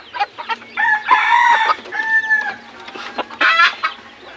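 A labuyo jungle fowl rooster crows loudly and close by in several strident, drawn-out calls, with short clucks and rustling between the crows and no talking.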